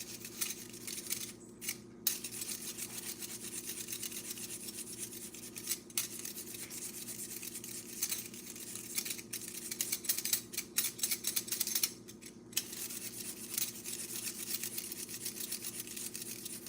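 Carrot rubbed back and forth on a grater into ribbons, a continuous fine rasping scrape with a few brief pauses, close and fairly quiet over a low steady background hum.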